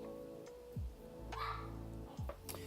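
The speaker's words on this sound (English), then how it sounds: "We got dogs barking" Dogs bark in a few short, sharp bursts at moderate distance, with faint background noise between the barks.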